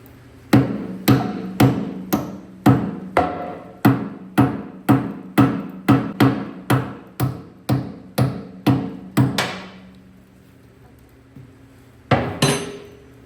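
A hand hammer strikes a stuck bolt on a brush cutter gearbox during repair, about twenty sharp ringing metallic blows in a fast steady rhythm, then a pause and two final hits, loud and close.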